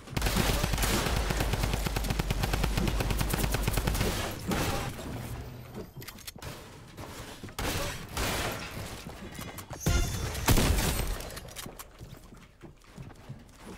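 Sustained rapid Tommy gun fire in a Fortnite World Cup qualifier match, loud and continuous for several seconds, then breaking into scattered bursts and shots with brief pauses.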